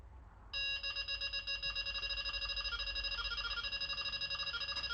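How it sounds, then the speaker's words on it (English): A Delkim TXi-D fishing bite alarm sounds close up, shifting into its warble tone as the line is pulled: a rapid, continuous stream of bright electronic beeps over a low background hum, with no talking. "That's only now just going into the warble as I give it a good pull to the top."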